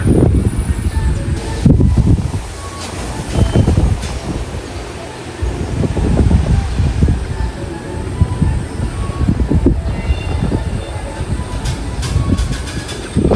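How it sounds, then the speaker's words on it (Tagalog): Strong wind roars and buffets the microphone in gusts, a heavy rumbling rush that rises and falls throughout. "medyo malakas po ang hangin ngayon"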